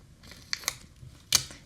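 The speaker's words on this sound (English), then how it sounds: "So you just go ahead and take off a piece of packing tape." Packing tape torn off the roll at a craft table for backing resin mosaic pendant pieces, heard as a few short, sharp ripping crackles close by against a quiet background.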